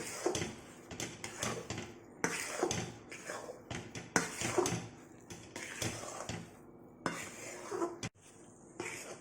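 Corn chivda being stirred with salt in a pan, irregular scraping taps and dry rustles of the mix against metal, close and moderately loud, with a voice speaking in between.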